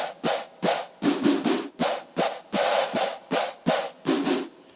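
A gritty synth screech from a trap drop, the secondary 'pork and bean' patch, playing as a loud repeated stuttering pattern of short bright bursts, about ten hits in under five seconds.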